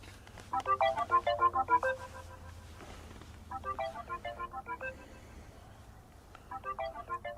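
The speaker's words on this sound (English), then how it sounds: "I'm going to try and call Brad" A phone's outgoing call ringback plays as bursts of a melodic electronic ringtone, three ringing cycles separated by pauses, close and clear over a faint low hum.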